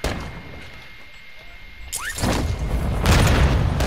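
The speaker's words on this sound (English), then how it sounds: "No shot there's another mine, bro. They have so many goddamn mines." A mine detonates in the video game Warzone 2.0, a sudden loud boom followed by rumbling blast noise and scattered crackle lasting a couple of seconds, with gameplay sounds around it.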